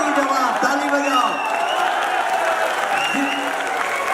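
An audience at a Hindi poetry recital claps steadily, a dense wash of applause with a voice speaking over it.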